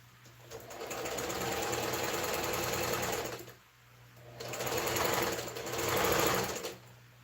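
A domestic sewing machine stitching a man's shirt whirs steadily in two bursts, a long run of about three seconds, a brief pause, then a second stretch, heard close and alone with no voices.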